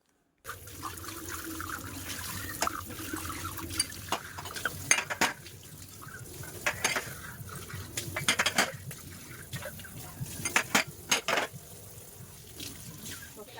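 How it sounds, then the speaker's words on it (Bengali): Tea cups get hand-washed at a sink, with running tap water and the bright clinks and knocks of ceramic cups being handled and set down, close and irregular, plus a faint voice in the background. "তাদেরকে সকালবেলা চা করে দেওয়া হয়েছিল তো সে কাপগুলো এখানে রাখা ছিল এখন সময় করে সেগুলো ধুয়ে নিচ্ছি"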